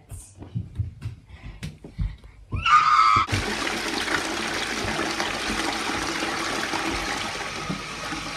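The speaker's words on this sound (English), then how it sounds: "I'm gonna just flush you down the toilet." A toilet flushes in a video game: a few soft scattered taps first, then a sharp rising gurgle into a loud sustained rush of draining water that continues steadily to the end.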